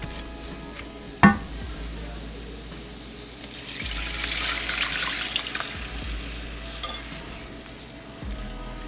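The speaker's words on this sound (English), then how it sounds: "I'm going to let the sauce get into that pan so I can start deglazing the bottom." Sauce hits a hot pan to deglaze it for beef and broccoli, giving a sharp hit and then a steady, rising sizzle that swells in the middle before settling, with light utensil clatter.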